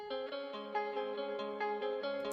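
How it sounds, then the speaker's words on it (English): A quiet, clean guitar loop repeats a short sustained chord pattern, soft and even, with no voices. "The third thing I added here was a guitar loop like this"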